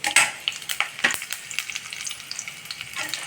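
Urad dal fries in hot oil for a tempering, a close crackling sizzle with a quick run of sharp pops and stirring scrapes that ease into a steadier hiss.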